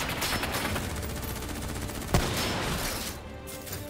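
Gunfire in Call of Duty Black Ops 3: dense, continuous rattling fire that fills the scene, with one sharp, louder shot cracking through midway.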